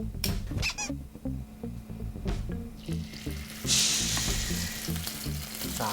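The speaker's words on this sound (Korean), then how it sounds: "요 아이들은 30초 구워주고 그 다음 두꺼운 애들 들어가고, 얘 30초 구워주고 나머지 애들 들어가면 딱 맞을 것 같아." Lamb ribs sear in a hot oiled pan with steady sizzling. Irregular knocks and scrapes sound as pieces are placed and moved, and a louder hiss swells near the end.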